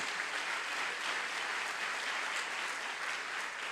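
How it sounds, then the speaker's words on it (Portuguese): A church congregation applauds steadily, a dense wash of clapping hands that holds evenly for a few seconds without voices. "Quem quer aplaudir mais forte o Senhor por isso?"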